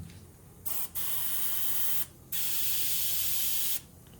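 Airbrush spraying black paint onto soft plastic fishing bait, heard as close, steady bursts of hissing spray in three passes separated by short pauses.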